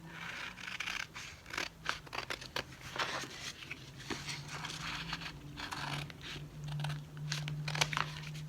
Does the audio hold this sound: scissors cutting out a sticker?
yes